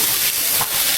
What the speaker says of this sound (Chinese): 下入鸡蛋